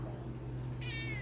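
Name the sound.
pet cat meowing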